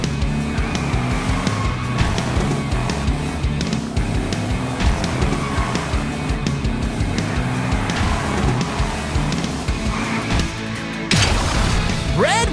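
A toy car is launched and races through a Hot Wheels Unlimited video game, its engine roaring steadily with tire squeals and skids over a busy music-like bed, then a sharp burst near the end.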